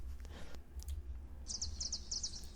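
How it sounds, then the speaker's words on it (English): Birds chirp in a video game, with a quick run of high, bright tweets over a low ambient hum and rumble. The calls sound moderately close. "those birds are really loud"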